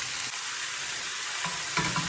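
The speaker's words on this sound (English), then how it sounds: "let's get this meat seared" Chicken sears in a hot pan for smothered chicken, giving a steady, close sizzle with brief stirring scrapes and no talking.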